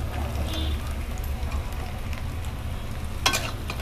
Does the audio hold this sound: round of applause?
no